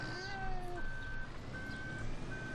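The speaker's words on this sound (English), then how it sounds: "if you shut a vehicle off while it's got the beep beep beep reverse thing going, that beep beep will continue" Reversing alarm of a vehicle in Farming Simulator 2013, a steady high-pitched electronic beep repeating at even intervals over low engine rumble, moderately loud.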